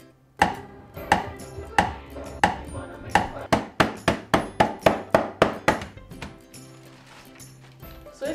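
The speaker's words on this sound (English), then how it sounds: "we'd be crushing the digestives with a rolling pin, but because we don't have that, you can also use a pan" Digestive biscuits crushed with a pan instead of a rolling pin, a run of about a dozen sharp, close thuds with a clinking edge, coming faster toward the middle, then a quieter scraping stretch and one final knock.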